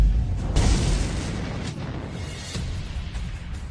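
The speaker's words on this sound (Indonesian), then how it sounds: "ada kebakaran di area eksperimen, disertai ledakan" A deep, rumbling boom from an explosion in a fire at an experiment area swells and then slowly fades into a lingering roar, loud and close with no voices.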